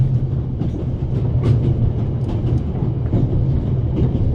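Train rolling along in a video game, a constant low rumble with a steady drone and faint clicks and rattles of the carriage, loud and close, with no talk.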